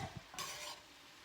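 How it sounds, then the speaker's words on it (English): Cabbage being stirred in a pot on a stovetop, a short scraping swish with a soft sizzle, close and fairly quiet, no talking. "Give it one more stir"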